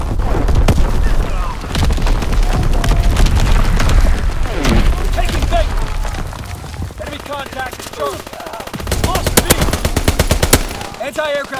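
Dense gunfire and booming artillery in a Call of Duty: WWII Domination match on the Shipment 1944 map, rapid automatic bursts and heavy thuds rolling almost continuously, loud and close, with game radio voices talking over the battle.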